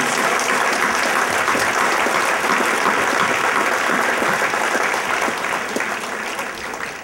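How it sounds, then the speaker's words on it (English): Audience applause at a state party convention, a broad sustained roar of many hands clapping that gradually tapers off at the end. "we need to give them another round of applause for continuing to fight"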